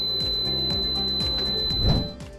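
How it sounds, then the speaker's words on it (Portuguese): An alarm on a Sonic Compact Maxx ultrasound therapy unit beeps in a steady run of short pulses to signal the end of a treatment, with a constant high tone underneath. "o equipamento interrompe a dose automaticamente e o alarme indica que a aplicação terminou."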